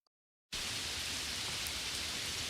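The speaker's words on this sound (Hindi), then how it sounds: "अगले दिन जोरदार बारिश हुई" Heavy rain starts abruptly after a brief silence and then pours as a dense, steady hiss, loud and unbroken to the end.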